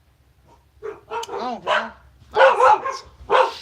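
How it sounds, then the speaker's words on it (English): Several dogs bark in a short run of sharp yips and barks, fairly close, with a person talking over and between them. "there goes all my dogs"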